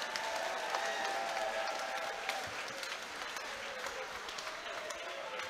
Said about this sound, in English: Let's have a round of applause for these gladiators.